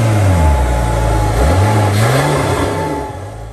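A BMW F10 with an N55 engine and an Armytrix catless downpipe revs up hard and then falls back, loud and close, with its pitch sweeping up and down before it settles toward idle.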